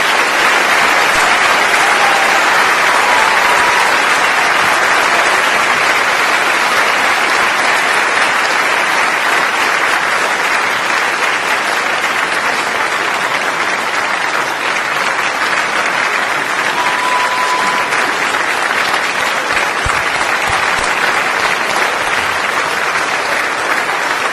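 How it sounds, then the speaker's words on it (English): A large audience at the Oklahoma State University College of Veterinary Medicine induction ceremony applauds the class of 2023 with steady, dense clapping that holds at full strength without a break for the whole stretch. "how about one round of applause for the class of 2023?"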